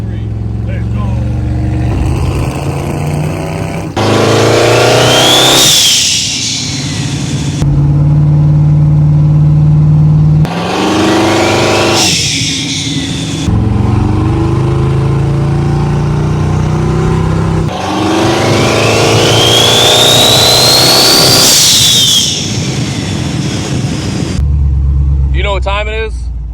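Twin-turbo LS-swapped 1969 Chevelle engine rumbling and revving through repeated loud accelerations with rising turbo whine while driving, a person talking over it between pulls.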